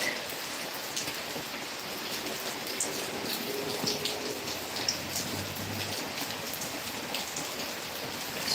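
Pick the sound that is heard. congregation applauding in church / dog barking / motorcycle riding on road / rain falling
rain falling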